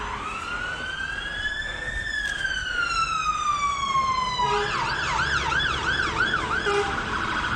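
Fire engine siren sweeping past, a long rising-then-falling wail that switches to a rapid yelp pattern, loud and close over steady road traffic.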